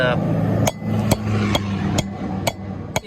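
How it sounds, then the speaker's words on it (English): A ball peen hammer taps a bearing seal into a boat trailer hub with seven sharp metallic strikes, roughly every half second. They ring loud and close over a steady low mechanical hum. "you really don't need a ball peen hammer to do that"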